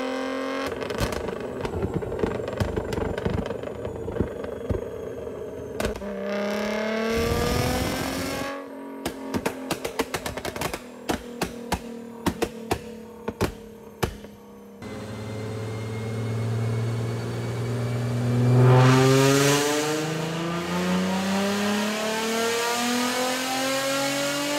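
A Nissan 350Z fitted with a Tomei catback exhaust revs repeatedly: sharp crackling pops and blips burst between rising engine sweeps, then a longer rev climbs and falls, loud and close.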